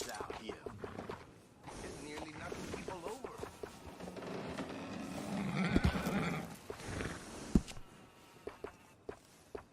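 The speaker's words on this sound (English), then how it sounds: "How's that horse doing?" A horse in the video game Red Dead Redemption II whinnies midway through, over soft hoof and mechanical sounds, while people talk across most of the scene.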